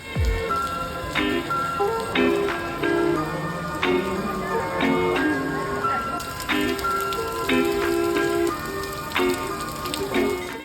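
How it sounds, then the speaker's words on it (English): Heavy rain pours at a temple in Guangzhou, a steady dense hiss of falling water heard throughout under melodic background music with bright chime-like tones. "I got some pretty good shots with super satisfying rain sound in the background"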